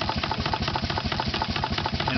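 Running steam engine with a throttle and governor, giving a steady, fast rhythmic chuffing and knocking beat that holds even and close for the whole stretch, with no talk.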